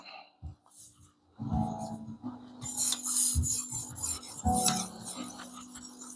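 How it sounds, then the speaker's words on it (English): A blade is drawn in repeated sharpening strokes across a 600 grit stone, giving gritty scraping rubs in a steady back-and-forth rhythm after a few quiet taps, close and fairly loud. "if you listen to the strokes whenever I'm sharpening it that the burr is getting less and less"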